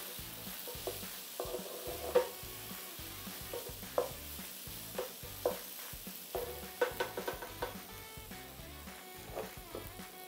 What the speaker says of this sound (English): lower your heat down and let your ingredients simmer and mix together